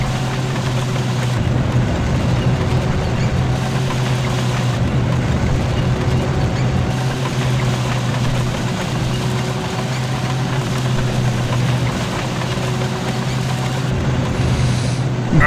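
A military vehicle engine drives steadily through a WWII Falaise Pocket battle in Forgotten Hope 2, a continuous low rumbling drone that holds at even loudness throughout with no talk.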